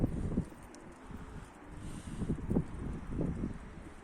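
Low, soft cooing from Turkish dönek tumbler pigeons rises and falls in several rounded pulses, set against steady wind rumble and breezy microphone noise outdoors.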